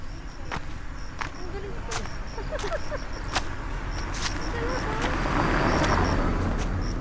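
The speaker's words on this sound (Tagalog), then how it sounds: "Tabi kayo ha, may sasakyan." A vehicle passes on a mountain road, its engine swelling from faint to moderately loud over several seconds while people chat nearby.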